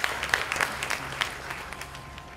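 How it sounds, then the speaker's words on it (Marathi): An audience claps together at a society function, a steady wash of applause at moderate distance with no voices over it. "आपण सोसायटीसाठी एकदा टाळ्यांचा कडकडाट करावा"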